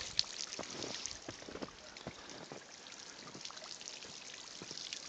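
Water still flows and trickles beside ice in fresh snow in Rome, a faint, close patter of small drips and splashes over a soft watery hiss, with no talk.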